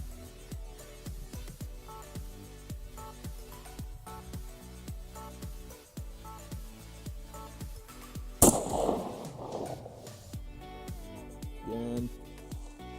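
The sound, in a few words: gunshots from a factory 16-inch AR-15 rifle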